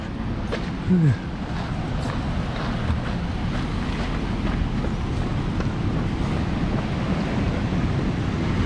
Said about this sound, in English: the surf's quite big today